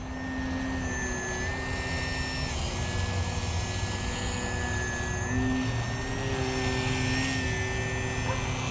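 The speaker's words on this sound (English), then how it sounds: "Flying my Value Hobby Giles 202 Foamy 3D plane." A Value Hobby Giles 202 foam 3D radio-controlled plane flies overhead on a calm day, its electric motor giving a steady whine that rises and falls in pitch as it maneuvers, clear and continuous.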